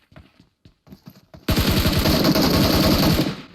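Automatic gunfire from a video game, preceded by a few scattered short shots, then a long, loud, rapid-fire burst that continues steadily to the end.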